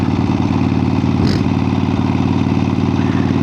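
A 1975 Harley-Davidson XLCH motorcycle engine runs steadily close by, a loud, even lumpy idle that thumps without pause for the whole stretch, with one brief scrape partway through.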